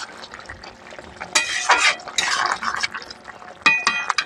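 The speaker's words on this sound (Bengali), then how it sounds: "আবার ভালোভাবে নাড়াচাড়া দিয়ে দেবো।" Hilsa fish head with Malabar spinach, potato and pumpkin being stirred in a pot, with clattering scrapes and clinks in bursts and gaps between, some wet cooking sounds beneath.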